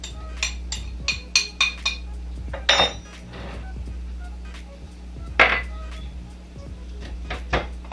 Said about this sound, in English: we're going to put it back in a big bowl and mix it with our spoon